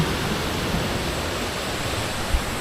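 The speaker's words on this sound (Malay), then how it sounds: "dia air mengalir turun ke bawah" Stream water flowing steadily downhill at the Kledang Saiong recreation park near Ipoh, a continuous broadband rush with no pauses, close and fairly loud with no talking over it.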